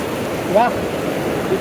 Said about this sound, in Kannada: ಇಲ್ಲಿ ನೀರು ಹರಿಯೋದು ನೋಡಿ